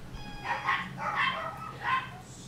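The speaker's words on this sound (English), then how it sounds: "My dogs are barking." Dogs barking indoors in three separate bursts spaced about half a second apart, moderately close and clear over a quiet background.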